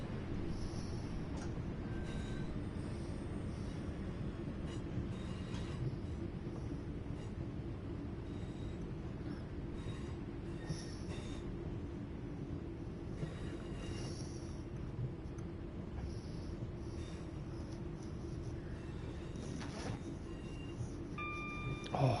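Locomotive-hauled single-coach passenger train rolling along in Train Sim World, a steady low rumble of engine and wheels on track with faint clicks and creaks over it, continuous and moderately loud, with no speech.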